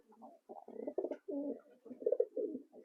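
Young pigeons at a breeder's loft coo and grunt softly while feeding one another. The calls are close, low and bubbling, and come in short bursts separated by brief pauses.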